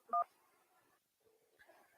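A call connects on a radio show phone line: a short, loud two-tone dial beep opens, followed by faint line noise, a brief silent gap and quiet, muffled connection sounds.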